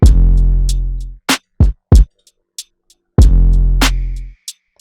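An FL Studio beat: deep booming 808 bass notes and punchy snare hits with crisp hi-hat ticks in a simple sparse pattern, loud and dry, no talking.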